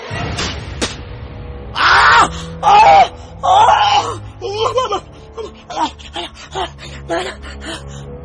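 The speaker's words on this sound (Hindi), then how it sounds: "जोर से चीखते हुए पानी को थूक दिया।" In a dramatized horror story, a person gasps and lets out loud, strained wailing cries in several bursts, with moaning and choked, sputtering sounds as scalding water is spat out.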